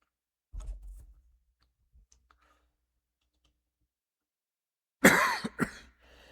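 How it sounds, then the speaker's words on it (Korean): A preacher coughs during an early-morning prayer-meeting sermon in a Korean church: a soft cough early on, then a sharper, louder cough burst close to the microphone after several seconds of near silence. "이 자리에 올라오면 기침을 이렇게 합니다"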